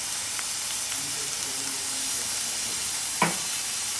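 Garlic, onion and bay leaf sizzle in hot oil with a steady, even hiss, and a single brief clink sounds near the end.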